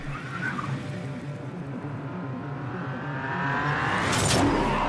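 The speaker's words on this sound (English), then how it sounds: "they observe Sator's inverted car which follows them" Film scene from Tenet in which an inverted car follows the heroes: a steady engine drone and road rumble building gradually, with a sharp whoosh near the end over a dense layer of music.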